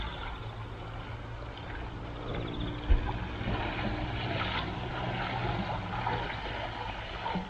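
An electric boat motor runs on a rushing river, a steady low droning hum blended with the broad wash of fast-moving water, with one brief thump partway through.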